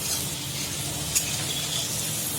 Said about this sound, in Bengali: আর এদিকে হচ্ছে আলু ভাজছি।